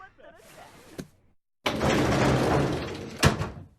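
A door opens in an anime scene: a short knock-like clack, a brief silence, then a broad rushing slide with a sharp thud near the end, with voices faintly heard at the start.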